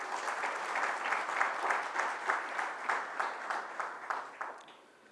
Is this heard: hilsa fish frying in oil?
no